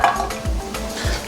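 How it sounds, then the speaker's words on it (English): Whole garlic cloves sizzle in olive oil in a pot, with a steady frying hiss and a few soft stirring and utensil clinks against the pot, close and moderately loud. "So in our pot, some olive oil, some garlic."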